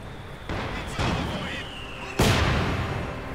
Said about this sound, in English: Mortar rounds going down.